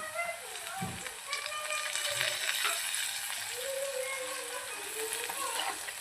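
Spices and onions sautéing in oil for toor dal tadka, a steady close sizzle with intermittent stirring scrapes and a voice talking over it.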